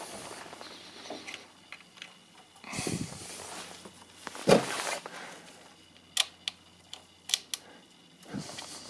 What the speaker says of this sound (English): They basically click in, slightly spraying some fuel here and there.